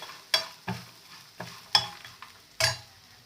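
Lemon juice being stirred into flattened rice pulihora: five sharp scraping stir strokes in an irregular rhythm, close and moderately loud, with quiet gaps between them.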